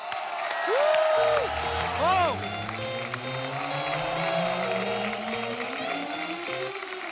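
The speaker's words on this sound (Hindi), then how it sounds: "आप सबकी जोरदार तालियों के बीच" Applause and cheering from a studio audience welcoming a guest onto a Diwali comedy show, with the clapping mixed under loud musical stingers, swooping synth tones and band music throughout.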